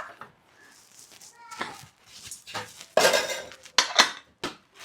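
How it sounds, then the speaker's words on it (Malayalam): A pressure cooker lid being fitted and closed in a home kitchen, with clinks and metallic knocks of the lid against the pot, over background chatter and voices. "അപ്പം നമ്മുടെ കുക്കർ അടയ്ക്കാൻ പോവാണേ"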